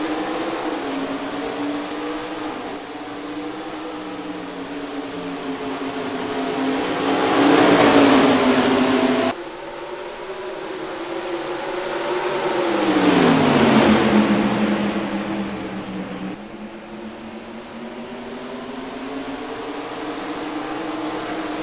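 Pack of race trucks' engines roaring at the green flag on the Myrtle Beach track in the NR2003 racing game, pitch rising and falling in two loud surges as the field accelerates, with no talking.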